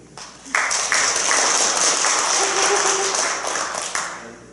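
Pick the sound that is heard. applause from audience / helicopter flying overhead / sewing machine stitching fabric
applause from audience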